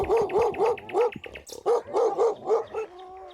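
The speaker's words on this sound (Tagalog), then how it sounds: "ang 3 aso na galit habang tinatahulan kami" Several angry dogs bark in quick repeated bursts at a festival, about eight loud close barks in steady rhythm with a brief pause midway, ending in a thin whine.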